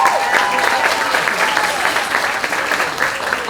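Sustained clapping from an audience at an eighth-grade stepping up ceremony fills the whole stretch, dense and steady, with a few scattered whoops and voices mixed into the applause.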